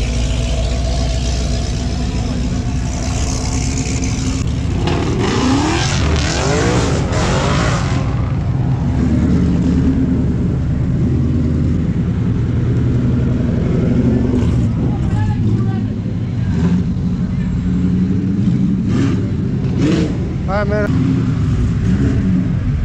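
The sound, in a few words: 416 stroker Camaro SS racing S197 Mustang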